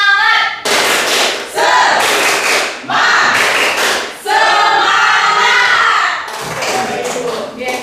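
An audience performs a rhythmic spirit clap with shouted cheers at a teachers' positive school culture workshop: loud repeated bursts of clapping and voices in several close, energetic rounds with short pauses between.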